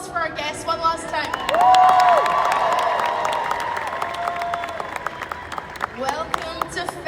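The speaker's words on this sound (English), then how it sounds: "A round of applause for our guests one last time." Convention crowd cheering and clapping for panel guests at a fan expo, a swelling burst of applause with whoops and shouts, while a host speaks over it through a microphone before and after.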